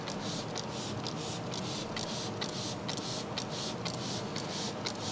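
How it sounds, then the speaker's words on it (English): A spray bottle pumps water rapidly and repeatedly onto car paint coated with HB Sauce Banana Cortado show wax, a series of quick, faint hissing bursts. "So let's get a good spray on here."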